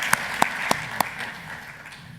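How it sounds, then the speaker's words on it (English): Applause from a conference audience at a stem cell summit. A few sharp, distinct claps stand out early over a soft, diffuse patter that fades into a low room hum, sounding thin and fairly distant. "Let's give a round of applause."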